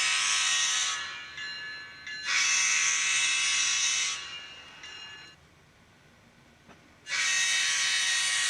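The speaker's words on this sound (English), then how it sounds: "There is something extremely satisfying about pressing a button on my phone and hearing the locomotive horn" A DCC model railroad locomotive's sound decoder blows its horn in three loud, sustained blasts of roughly one to two seconds each, separated by brief pauses, with a faint hum underneath and no talking.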